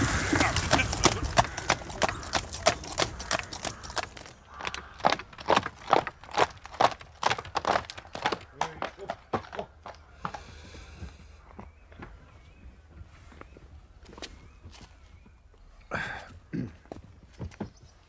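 A horse's hooves clip-clop on a hard surface while pulling a carriage, loud and rhythmic at first, then thinning to scattered, slower steps. Voices talk over the later part.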